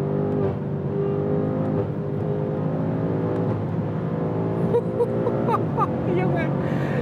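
BMW M5 CS with G-Power tuning, 800 PS and 1050 Nm, driven at around 180 km/h: a loud, steady engine drone with road and wind roar throughout, a brief rev change near the end, and someone talking over it.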